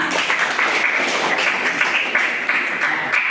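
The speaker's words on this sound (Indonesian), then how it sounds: "Jadi tepuk tangan dulu nak untuk Ratna." Applause from a classroom of students, a steady wash of many hands clapping close by for about three seconds, with faint voices mixed in.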